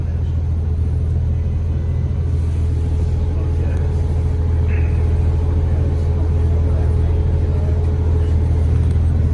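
Steady city traffic with buses rumbles continuously at low pitch, a dense, even drone of engines with faint scattered higher noises on top and no clear individual passes.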